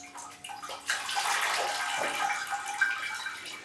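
Water poured from a container into a bone-dry plant in a black pot, a soft steady splashing and trickling stream that starts after a brief pause and runs continuously, close and fairly quiet.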